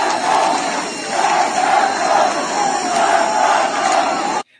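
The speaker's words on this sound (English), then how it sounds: "So people are chanting at Kian's funeral." A large crowd at a funeral for a child named Kian chants in unison, a loud, rhythmic mass of voices repeating a phrase in steady pulses until it cuts off abruptly.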